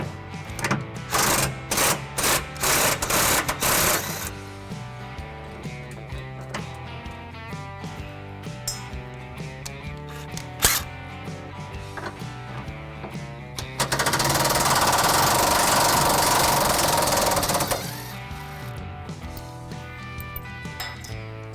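Rattling impact-wrench bursts remove a rear frame bolt on a 2014 Chevy Silverado 1500 during hitch installation, with several short rapid bursts early on and a louder sustained run midway, close and loud.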